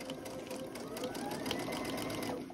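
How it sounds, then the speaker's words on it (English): A sewing machine stitches with orange thread, its needle drive running in a fast, steady mechanical whir and rattle up close for a few seconds without pause. "So I am just going to start stitching this, and I'm going to push that right up in there."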